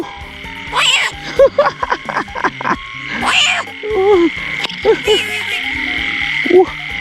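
Frogs croak loudly and close by after rain, a rapid series of rough pulsed calls in bursts over a steady insect-like drone, with people's voices mixed in.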